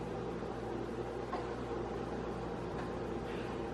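Air fryer running with bacon inside, a steady, even whirring hum of the fan with soft broadband noise that holds constant throughout, with no talking.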